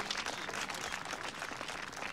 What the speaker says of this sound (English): Who claps like that? It's like a golf clap?